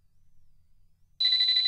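In Hayarigami Revenge, a cell phone suddenly rings out of near silence, with a bright sustained electronic tone starting late and continuing loud and close.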